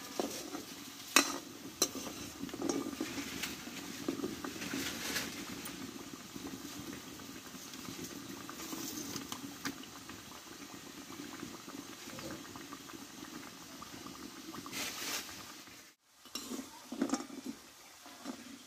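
Homemade sweets fry in hot oil over high heat, a continuous bubbling sizzle with stirring scrapes and light pan clinks, close and steady, briefly dipping near the end before bubbling resumes.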